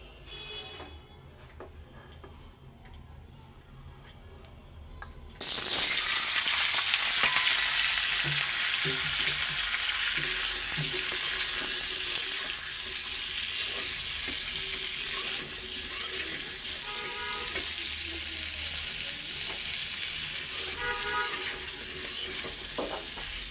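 Sliced potatoes drop into hot oil in a home kitchen pan, setting off a sudden loud sizzle that settles into a steady, close frying hiss with occasional stirring.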